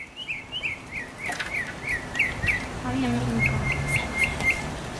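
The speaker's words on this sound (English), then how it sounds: "Oh my god, keep talking, bird." Bird chirping outdoors, a series of short repeated tweets, clear and fairly near, with background noise and a voice talking in the scene.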